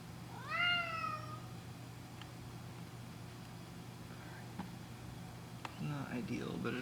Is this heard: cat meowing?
yes